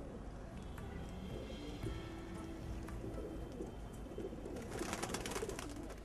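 Pigeons coo and call in a mid-distance outdoor scene, low steady murmuring over background ambience, with a busier burst of noise near the end.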